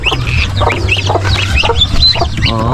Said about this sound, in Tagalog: Inahing manok yung nag-aalaga sa mga sisiyo natin ng pabo.